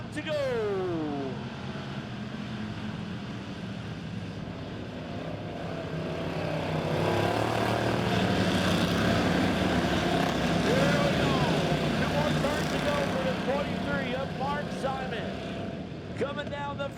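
Pure stock race cars roar around Lebanon Midway Speedway on the final lap of an A-main, engines droning and swelling past at a distance, under steady announcer commentary.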